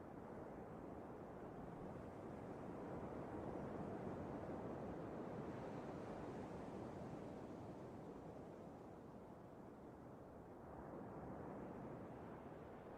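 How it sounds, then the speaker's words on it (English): Strong wind buffets a microphone outdoors, a continuous low roaring rush that swells and eases slightly without pause, with no voices or other distinct sounds over it. "it's pretty windy"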